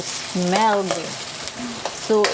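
Onions sauté in a pan with a soft steady sizzle, partly under a voice that talks over it in short bursts.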